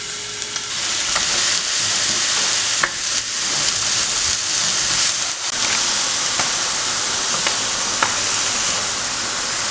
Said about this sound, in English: Going to take our Canadian bacon and sear it off on both sides.